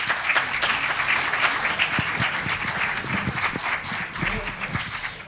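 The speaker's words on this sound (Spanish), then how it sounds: "Pues vamos a darle un aplauso a Salvador Jiménez" Audience applause for Salvador Jiménez at a large gathering, a dense steady wash of many hands clapping that carries through the whole stretch, with some crowd murmur underneath.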